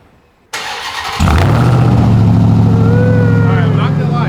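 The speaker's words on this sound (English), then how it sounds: "let me give you guys a cold start of the TRX" Ram TRX pickup truck with stock exhaust cold-starting: brief starter whir, then the engine catches into a loud, steady, deep idle rumble with a faint whine above it.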